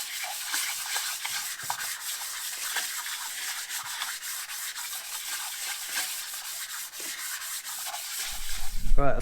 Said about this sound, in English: I've just been going over with a straight edge and a little bit of sandpaper